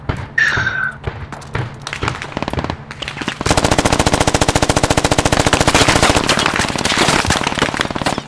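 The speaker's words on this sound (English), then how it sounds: "I'm putting some shots out. I'm taking fire now." Gunfire in the video game Squad: a few sharp single shots first, then a long, loud, rapid stream of automatic fire that continues steadily to the end, close and dominant.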